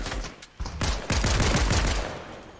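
Rapid gunfire crackles in a loud video game shootout, a few sharp shots followed by a dense, sustained burst of automatic fire that tails off.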